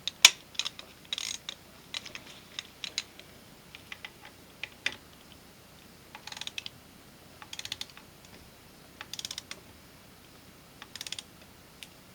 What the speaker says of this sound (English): Put the proper value on your torque wrench.